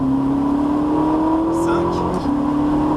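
A Ferrari 458 Italia with a 570 hp engine accelerates on the Laquais circuit, its engine note rising steadily from inside the cabin before a brief dip at a gear change, loud and continuous beneath a voice speaking.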